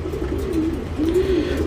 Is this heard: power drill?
no